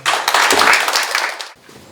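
Warm audience applause at a corporate ESG conference session greets an introduced presenter, a loud burst of many hands that runs for about a second and a half then cuts off to near silence.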